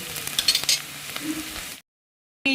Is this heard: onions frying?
yes